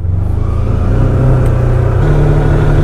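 A Polaris Ranger 1000 UTV with a 1000cc engine climbs uphill in four-wheel drive, its engine droning loud and close with a steady, rising revving pull.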